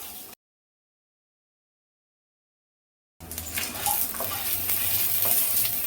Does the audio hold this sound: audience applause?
no